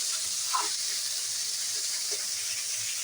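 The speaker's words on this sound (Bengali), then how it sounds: "আদা, কাঁচা লঙ্কা আর কালো জিরেটা একটু ভেজে নিতে হবে" Ginger paste, green chili paste and nigella seeds fry in a pan with a steady, soft sizzling hiss that runs unbroken throughout, close but fairly quiet.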